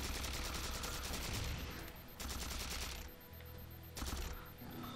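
Rapid automatic gunfire from a weapon in the video game Halo 4, dense bursts of shots in three long strings separated by short pauses, loud and close.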